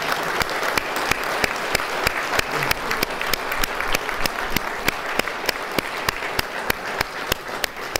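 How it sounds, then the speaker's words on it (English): Sustained applause from a crowd at a military promotion ceremony, a steady wash of clapping with some sharp individual claps standing out throughout. "How about a round of applause for these folks?"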